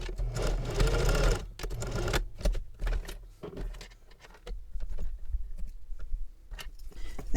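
A domestic sewing machine stitches elastic on a travel belt with a narrow seam, its motor running in a loud opening burst and then in short start-stop runs with clicks in between, with no talking.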